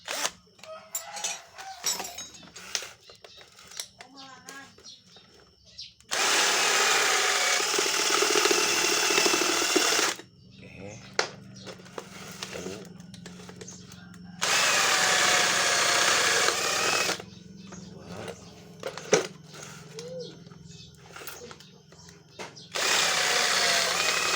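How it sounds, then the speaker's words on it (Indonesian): An electric drill with a 12 mm bit whines loudly in three sustained bursts of several seconds each, drilling into a washing machine motor, separated by quieter stretches of handling noise and occasional talk. "kita ganti pakai mata bor 12 langsung ya, mata bor 12 agar dia cepat terlepas"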